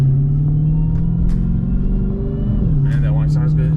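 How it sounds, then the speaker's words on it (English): A Gen 2 Dodge Charger Redeye rumbles loudly with a steady deep engine drone from the cabin, rising slightly near the end as the gas is applied, while a person talks over it. "Let's kind of get on the gas a little bit."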